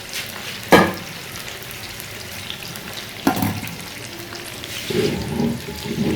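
Beef kofta and bones fry in a pan with a close, continuous sizzle. A few sharp clatters from handling the pan break in, and the spitting grows fuller toward the end.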